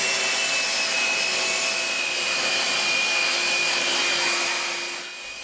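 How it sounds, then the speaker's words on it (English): A power sander levels wooden luff-groove track pieces, giving a loud, steady whirring drone that holds evenly for about five seconds, then drops off slightly at the end. "And level the thickness with the sander."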